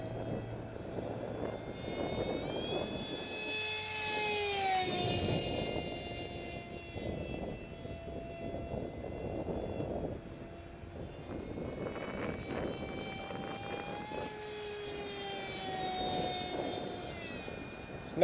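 A Delta Mig RC model jet makes a high-speed pass, its whining engine rising and falling as it flies by at moderate distance, with a second pass later and no talk.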